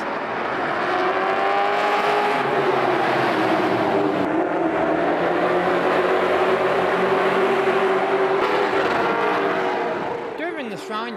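Stock race cars roaring around a track, a loud sustained engine drone with cars passing and revving, faint voices underneath.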